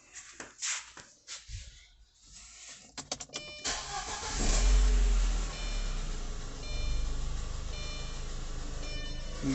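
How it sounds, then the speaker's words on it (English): An Audi B6 A4 engine cranks and catches after a wiring harness and coil swap, then settles into a steady idle. Faint clicks and shuffling come first, and the running engine sounds close and continuous. "the car starts and runs"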